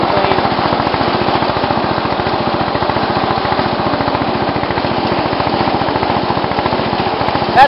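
A racing tractor engine runs loud and close with a fast, steady rapid-fire chug, uninterrupted for several seconds and alone without talking.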